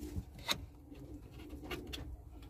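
Pigeons coo softly in a loft, a few faint low calls heard close by against quiet background rustling.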